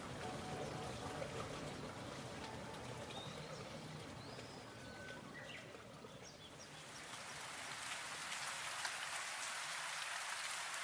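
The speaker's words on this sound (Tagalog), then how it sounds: "Maghapon na umuulan." Steady rain falls all day, a dense continuous patter of drops on surfaces with a faint trickle, moderate and even throughout, growing a little brighter and heavier toward the end, with no voices.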